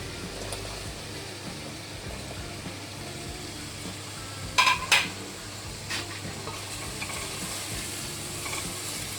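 Chopped potatoes frying with green chillies in oil in a pot for masoor pulao, giving a steady, close sizzle throughout, broken once midway by a brief clatter of a spoon stirring against the pot.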